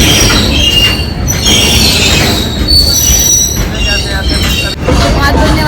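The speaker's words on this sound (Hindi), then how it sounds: "हमने ना यहाँ से ट्रेन पकड़ी है जो रेवाड़ी जाती है।" A train bound for Rewari, near Ringas, rolls past close and loud with a steady rumble, squealing wheels and metallic screeches. The noise carries on for several seconds and drowns out any other sound.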